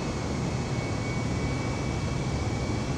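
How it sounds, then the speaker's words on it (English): Airplane engines roar steadily during the takeoff roll, a loud, continuous broadband rumble heard from inside the aircraft with no breaks or voices. "we're about to start our takeoff roll"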